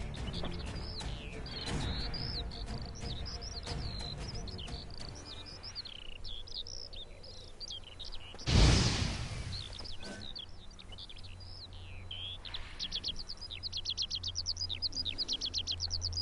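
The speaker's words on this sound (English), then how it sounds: "Yes, birds, I hear you." Birds chirp in the Witcher 3 Blood and Wine video game: repeated bright tweets and calls over a soft insect-like ambience, with one brief louder whoosh midway.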